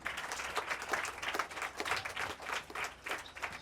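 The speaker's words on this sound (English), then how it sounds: "now we just clap for them as I call the names then" Audience applause for a named donor at a mental health foundation donation event at Maria Primary School in Grafton, Sierra Leone, a steady crowd clapping with rolling swells throughout, no voices over it.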